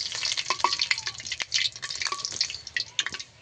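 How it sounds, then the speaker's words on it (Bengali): Small semolina dough pieces for sitabhog sweets fry in hot oil in a pan. A constant soft sizzle runs under frequent sharp clinks and scrapes of stirring. "এই যে এই অঙ্কুরগুলো আমার ভালোভাবে ভাজা হয়ে গেছে"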